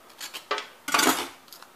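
A knife cuts through the end of a mango stone in a few short crisp cuts and scrapes, close and clear, with a denser crunching stroke in the middle and no talking.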